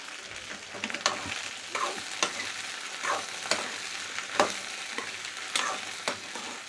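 Cut okra frying in a pan for vendakkai kara kulambu: a close, soft sizzle broken at regular intervals by sharp scrapes of a spoon stirring it, with no talking.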